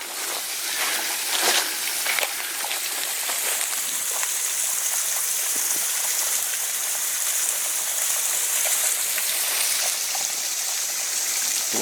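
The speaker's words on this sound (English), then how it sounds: "coming up just on the left is a lovely trackside little waterfall." Water rushes steadily down a small trackside waterfall along the E&N Railway near Port Alberni, giving a continuous, close hiss and splash with no breaks.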